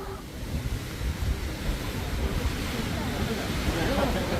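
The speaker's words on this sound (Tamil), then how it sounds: "நல்லா காற்று நிற்க முடியல இந்த மலை உச்சியில், அப்படியே பயங்கரமாக தள்ளுது." Strong wind buffets a roughly 800-foot hilltop, a steady, loud rushing roar that builds toward the end and is heard on its own.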